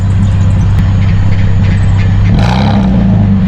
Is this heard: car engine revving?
yes